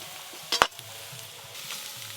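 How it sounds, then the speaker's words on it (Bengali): Chopped onions frying lightly in oil in a home kitchen, a steady close sizzle with a sharp clatter of utensil contact early on. "এবার পেঁয়াজ কুচিগুলো একটু হালকা করে ভেজে নেব।"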